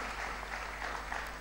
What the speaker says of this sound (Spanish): vamos a dar un fuerte aplauso porque tenemos que seguir con esto